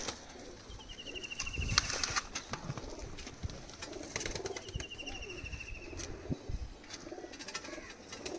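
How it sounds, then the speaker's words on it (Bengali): Oman teddy pigeons coo softly amid a busy, noisy loft, with scattered chirps, rustling and faint wing flutters all blending into a steady background clamor. "এই হচ্ছে কবুতর টেডি কবুতরের রাজা"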